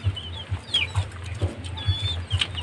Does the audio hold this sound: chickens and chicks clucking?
yes